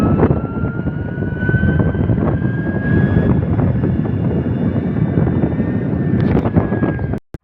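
A Ritza electric scooter runs at full speed in eco mode, a thin steady motor whine riding over loud, constant wind rush.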